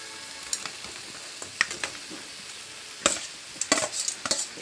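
Chicken frying in masala for a village-style chicken fry, giving a soft steady sizzle with scattered sharp crackles and stirring scrapes, louder bursts near the end, close by with no talk.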